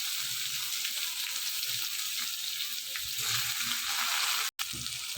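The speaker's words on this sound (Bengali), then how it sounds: "এবার আমি এই পেঁয়াজগুলোকে ছেড়ে দিচ্ছি তেলের মধ্যে" Chopped onions sizzle in hot oil in a pan while a mustard-based bhola fish curry is being cooked; a steady, close, dense frying hiss runs throughout, broken by a brief dropout near the end.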